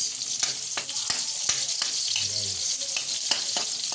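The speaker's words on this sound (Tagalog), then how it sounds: "dahil golden brown na guys yung ating bawang, ilalagay na natin yung sibuyas" Onion added to golden-brown garlic frying for Kapampangan sautéed ampalaya, a strong steady sizzle with regular sharp clicks of a spatula against the pan and a brief low thud midway.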